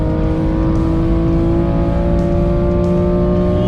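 A BMW M2 Competition engine revs hard at high rpm on the Sepang racing circuit, a loud, continuous, close-up engine drone held steady throughout with no talk.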